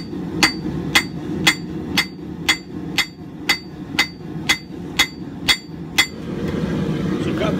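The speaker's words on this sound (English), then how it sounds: "we're going to scarf down the areas that are going to be welded to the blade." Eleven evenly spaced hammer blows ring out as a scarf is forged on a Viking axe made from scrap steel, each strike a sharp metallic clank over a low furnace roar.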